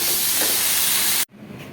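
Pressure cooker whistle releasing steam while chicken mince cooks inside, a loud, steady hiss that cuts off abruptly, leaving quieter background.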